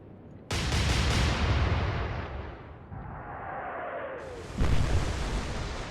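Heavy naval gunfire from battleships and cruisers in the Atlantic Fleet WWII naval strategy game, a loud booming blast that rolls into a long rumbling roar, with a second heavy blast near the end.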